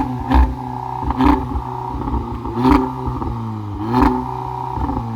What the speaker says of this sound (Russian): Управляемый выхлоп на Tiguan 2020 года.